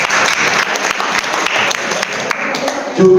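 An audience at a year-end gathering in Tuban claps together in loud, dense applause that holds steady throughout, with a voice rising near the end.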